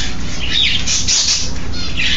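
A pet bird squawks and chirps loudly and close by, with rustling and wing-flapping noise, demanding attention with no talk.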